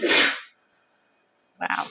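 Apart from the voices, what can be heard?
sneeze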